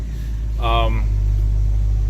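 A 1975 Ford F100 short bed truck drives along with a steady low engine rumble and road drone inside the cab; a brief voice sounds over it.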